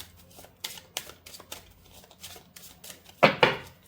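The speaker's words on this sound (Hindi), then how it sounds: "पता नहीं क्यों मैंने शफल करे कार्ड्स" Tarot cards are shuffled by hand in a run of soft, quick riffling taps and flicks, ending in two louder crisp bursts close to the listener.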